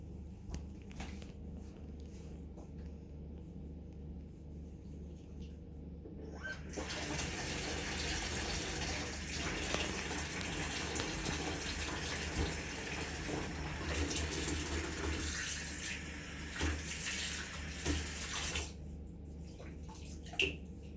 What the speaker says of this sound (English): You're definitely best to wash your hands again now.